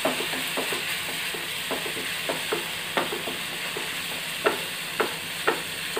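Chicken liver frying in a pan as tomato goes in, a steady broad sizzle with scattered sharp clicks of stirring and scraping throughout, close and alone.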